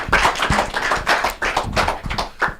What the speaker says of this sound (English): Make we clap for them once again.